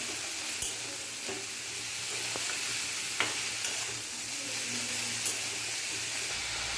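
Vegetables with salt and turmeric are stirred in a pan over low to medium flame, giving a soft, steady sizzle with occasional spatula taps and scrapes.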